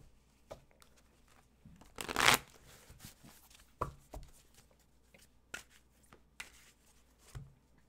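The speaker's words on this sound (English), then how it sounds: "So I'm shuffling those cards." Tarot cards shuffled by hand in a series of crisp riffles and soft slaps, one loud burst followed by several quieter, irregular flicks, close and with no talking.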